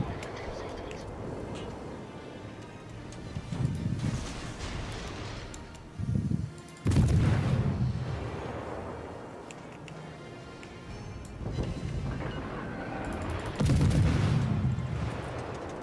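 Warship guns fire HE shells in World of Warships from the destroyer Z23, heavy booming salvos recurring every few seconds under ongoing talk.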